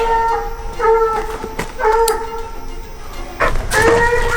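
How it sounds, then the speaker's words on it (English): Coonhounds shut in a dog box at night bay and howl in long, drawn-out repeated cries, loud and close, overlapping one another with no talk. "They're gonna bark in the box on separate recuts."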